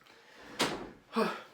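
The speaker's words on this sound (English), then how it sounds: "He did indeed grab the door." A door is pulled shut at an art walk gathering, giving two short knocking thuds about half a second apart over a faint room murmur.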